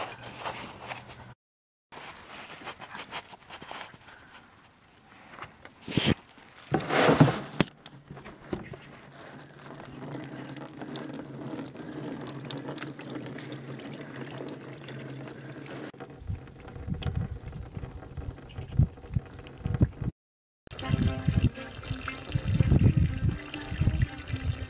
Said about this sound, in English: A large bucket of water pouring into the tank.